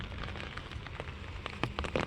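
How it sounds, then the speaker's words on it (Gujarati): Steady rain falls outdoors along a roadside during a heavy downpour, a dense continuous hiss with scattered louder drops striking nearby surfaces, fairly loud and alone with no voices. "આપણે આ બાજુ નથી જો રોડ માથે ઓલી બાજુ વરસાદ રેડો વધારે છે"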